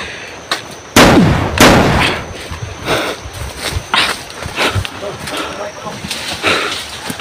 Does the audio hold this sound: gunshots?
yes